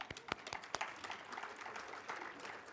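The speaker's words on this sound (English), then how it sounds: "please clap for those people" Audience applause at a live community engagement session, a scattered spread of claps that thickens into a steady, moderately distant patter without talk.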